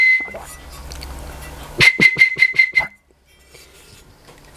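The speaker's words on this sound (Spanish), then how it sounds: "Aquí tenemos una botella silbadora." A traditional ceramic whistling bottle sounds a high, thin whistle briefly, then returns as a rapid series of short airy tones in quick succession before falling quiet.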